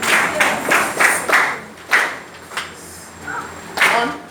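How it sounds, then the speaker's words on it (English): A group of kids clap along in a music lesson on time values and rests, a series of sharp, loud claps in an uneven rhythm with short pauses between. "All the kids in the house, please don't clap."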